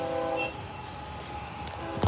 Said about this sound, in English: it looks like an oil train